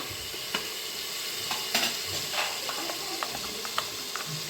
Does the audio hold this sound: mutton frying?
yes